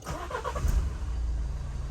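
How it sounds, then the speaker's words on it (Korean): A Renault Samsung QM3 starts on the first try after a battery replacement, with a brief cranking whir that settles into a steady low idle, heard close and alone. "시동 한 번에 아주 잘 걸렸어요"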